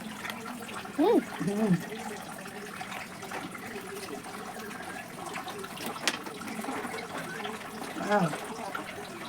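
Rainwater pours off a roof and splashes steadily nearby while people talk over it.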